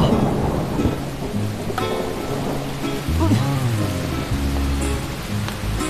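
Heavy rain pours steadily with thunder rumbling through it, loud and close, while people talk over the storm.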